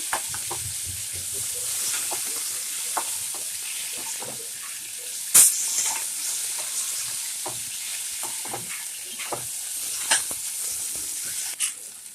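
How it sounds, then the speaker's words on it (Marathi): Onion and tomato stir-fried together in a pan for bitter gourd bhaji, a soft sizzle broken by sporadic clicks and scrapes of a spoon against the pan, one sharper clack midway, close with no talk. "टोमॅटो पण चांगले हलवून घ्यायचे, चांगले होऊ द्यायचे."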